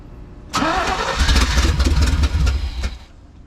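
A 1980s square body truck engine cranks briefly and catches, roaring loud and close into a rough, sustained run for a few seconds before easing off.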